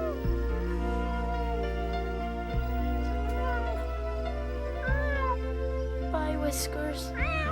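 A cat meows repeatedly in long, drawn-out, tonal cries, close and loud, with a few shorter higher calls near the end.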